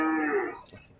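A single cow moos loudly and close by, a short drawn-out call that fades quickly.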